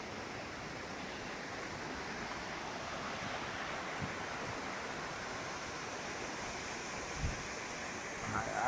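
Pampa Hermosa waterfall (Catarata los Monos) pours in a constant, even roar of rushing water, with no voices over the continuous broadband rush.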